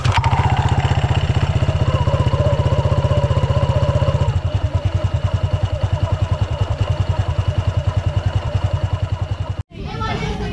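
A Honda Click 160 scooter engine, its CVT recently tuned, idles and revs loudly up close with a rapid pulsing beat that slows partway through, then cuts off briefly before the engine runs again.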